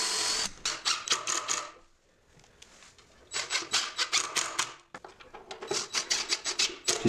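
A power tool drives 2-inch screws into a built-in wall desk in three close, loud bursts of rapid pulsing whir, separated by brief pauses.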